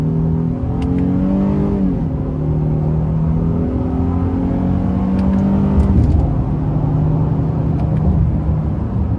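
A 2026 Honda Ridgeline TrailSport AWD accelerates moderately in sport shift mode using paddle shifters, engine revs rising and dropping through two or three gear changes, heard steadily from inside the cab without talk.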